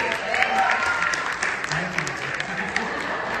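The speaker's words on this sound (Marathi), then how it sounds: "कम ऑन, जोरदार टाळ्या गाइस." Guests at a haldi celebration give a loud, sustained round of applause. Many hands clap in a continuous wash, with scattered voices and cheers underneath.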